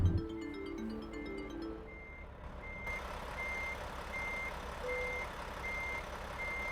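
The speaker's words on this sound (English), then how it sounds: "Oh, the reverse sounds so much better now, actually." Truck reversing beeps in a truck-driving video game sound in an even, repeating rhythm over a low idling engine rumble, with a brief tonal chirp at the start.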